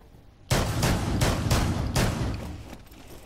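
A rapid run of close, loud gunshots in Rainbow Six Siege starts abruptly, about six evenly spaced blasts over two seconds that tail off into fading echoes.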